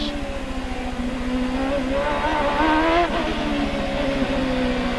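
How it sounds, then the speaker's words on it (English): A Honda-powered CART race car at the 1999 Long Beach Grand Prix street circuit, held at low RPM in second gear, its loud buzzing engine note rising and falling steadily across the stretch. "You can hear him working that Honda engine in the low RPM band in second gear."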